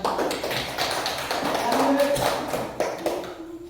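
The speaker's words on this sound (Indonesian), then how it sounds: "Kita kasih aplaus ke kelompok 2." Students clap for a group in a classroom, a dense patter of many hands lasting a few seconds and fading toward the end, with voices talking over it.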